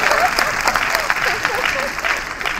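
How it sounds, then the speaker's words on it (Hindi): Audience applause at a Lokmanthan 2022 cultural talk, a dense, steady wash of many hands clapping together, fairly loud and sustained throughout, with faint voices mixed in. "ताली बजाओ भाई।"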